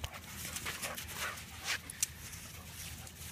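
A dog out on an afternoon walk pants softly and lets out faint whimpers, quiet and close with low background noise.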